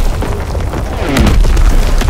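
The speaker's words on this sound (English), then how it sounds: "Firing primary battery." Artillery battery firing in Call of Duty WW2 on a D-Day map: one deep, heavy boom swells in about halfway through and rumbles loudly to the end over a low background wash, with no talking.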